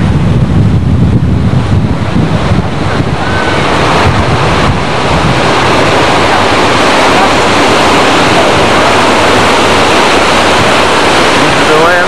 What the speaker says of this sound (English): This is the lower fall.